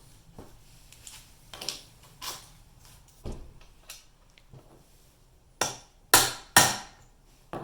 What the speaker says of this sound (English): So we'll just hammer it in a little bit.